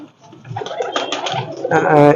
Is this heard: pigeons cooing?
yes